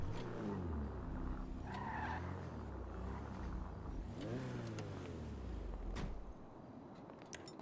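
Racing car in a video game driving with a steady engine drone, rising and falling revs through gear changes, and a brief tire skid, loud throughout with game audio underneath.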